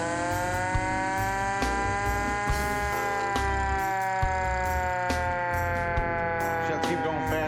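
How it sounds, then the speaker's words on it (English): An original old-school siren driven by a motorcycle's back wheel wails loudly and steadily in a long rising and falling mechanical tone, with clanks and workshop knocks scattered underneath. "We even found ourselves an original old school siren"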